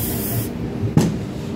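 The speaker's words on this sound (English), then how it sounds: "A bit of spray lube." Spray lubricant applied during reassembly of a Mercedes-Benz R230 SL trunk lock cylinder: a single short, close hiss of aerosol in a quiet workshop.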